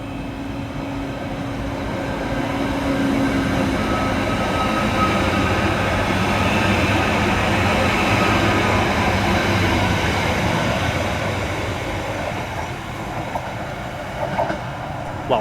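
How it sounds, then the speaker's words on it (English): Merseyrail Class 777 electric train 777-144 pulls out of a station on a service to Liverpool Central, a steady broad rumble and whine of traction building and holding, fairly near, with a faint rattle toward the end and no talk. "Next out to depart is 777-144, working the 1341 Merseyrail electric service through to Liverpool Central."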